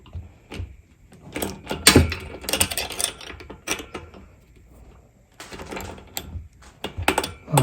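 A wrench cranks a nut while an Innova inversion table is assembled, giving irregular metallic clicks, ratcheting and clunks of metal parts shifting, close and moderately loud.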